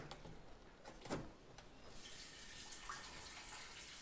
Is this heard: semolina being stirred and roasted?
no